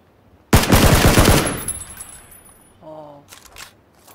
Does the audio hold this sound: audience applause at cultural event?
no